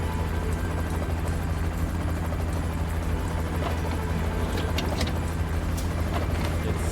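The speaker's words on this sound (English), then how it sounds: "Incoming chopper. Could be reinforcements." A helicopter approaches in the video game Final Fantasy VII Ever Crisis, a steady loud rotor rumble and whir that holds throughout, with no talk.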